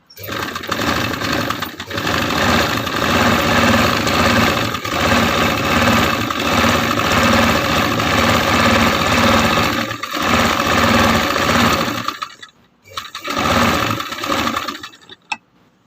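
Sewing machine stitching a fabric face mask, a loud sustained motor hum and needle whir running almost without break, with short dips, stopping near the end.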